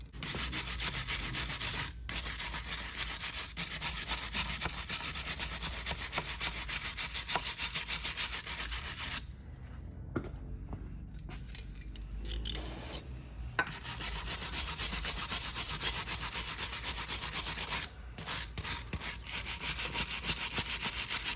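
Grease being scrubbed off a Harley Knucklehead engine part with a brush, making continuous close rhythmic rasping strokes that pause briefly midway before resuming.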